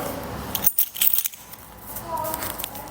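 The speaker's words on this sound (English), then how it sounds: "See if I got my keys." Keys jangle in bursts as someone rummages for them, bright metallic clinks rising and falling over a couple of seconds amid background noise and a voice.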